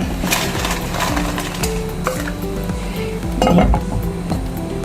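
Steady sizzling of frying in coconut oil in a pan with occasional scrapes and clinks of a spoon stirring, close and fairly loud throughout.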